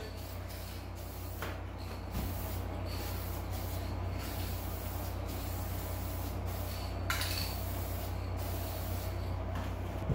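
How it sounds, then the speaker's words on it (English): A steady hiss of Dupli-Color spray paint from an aerosol can onto a sun-baked plastic car door panel runs continuously, broken by a few short bursts, close and constant with a low background hum. "spraying it kind of thick right there because remember it was baked by the sun"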